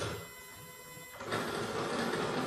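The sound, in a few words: Techlink machine starting to work on a celebration card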